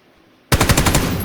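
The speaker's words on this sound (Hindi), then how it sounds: "तो कहीं और से एक शॉट और आया मेरे को।" Rapid automatic gunfire bursts out suddenly after near silence in PUBG, a quick string of loud, close shots in a fast steady rhythm.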